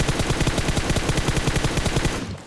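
Automatic rifle fire from the BGMI (PUBG) battle royale game rattles out in a loud, rapid, unbroken burst of about twenty shots, fading out at the end with no talk over it.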